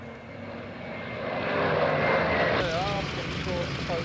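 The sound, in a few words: Wildcat WWII fighter plane flying at air show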